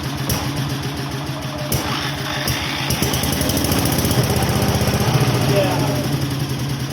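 An old Onan generator engine runs steadily after decades of storage, a loud, close, rapid mechanical chugging with a constant rattling drone throughout.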